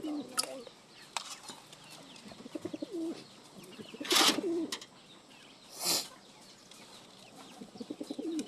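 Pigeons coo in low, soft bursts around a feeding spot, with intermittent rustling, a few sharp flutters and clatters, and a nearby voice speaking now and then.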